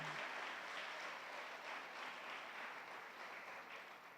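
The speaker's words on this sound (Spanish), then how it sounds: "le brindamos un fuerte aplauso de agradecimiento en esta noche" A church congregation applauds at an anniversary service, a dense, even wash of clapping that holds steady at moderate loudness from start to finish and eases slightly at the end.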